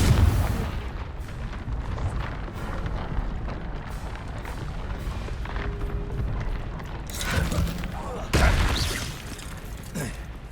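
Booming fire-spell blasts from Confringo and other combat spells in Hogwarts Legacy, with repeated explosive thuds over a constant battle rumble and two sharper, louder bursts near the end.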